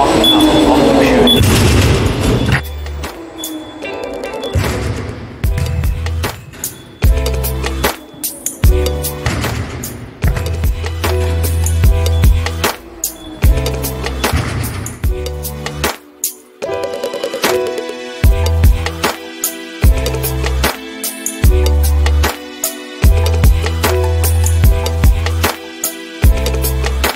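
A ball training machine shoots balls in a steady series of loud thumping launches, repeating every second or so over continuous background noise and movement close by.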